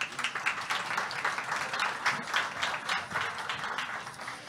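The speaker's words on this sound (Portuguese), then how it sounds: "Uma salva de palmas para o Adler." Audience applause at a corporate sustainability forum panel in Brazil, a steady, moderately faint patter of many hands clapping that carries on evenly for several seconds without speech.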